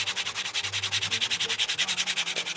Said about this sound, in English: I'm not just sanding off the top of the bubble